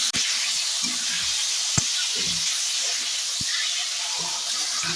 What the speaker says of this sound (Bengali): 2-3 সেকেন্ড পর্যন্ত ভেজে নেওয়ার পরে এবার মোচাটা দিয়ে দেবো।